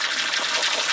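Water gushing out of a valve opened by a 12-volt solenoid, a steady bright hissing rush of liquid heard up close and alone for about a second.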